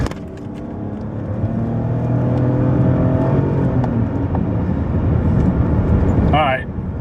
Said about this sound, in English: now it's downshifting again, acting crazy